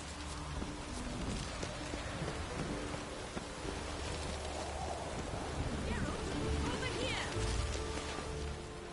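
Steady rain pours down with low rumbles of thunder in a thunderstorm in The Witcher 3, a dense, continuous wash of noise holding loud throughout, with voices talking over it.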